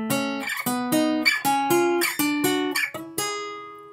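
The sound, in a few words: minor thirds played on an instrument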